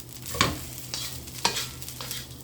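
A spoon scrapes and tosses Chinese sausage fried rice in a hot pan, three or four distinct stirring strokes over a low steady sizzle, close and fairly quiet.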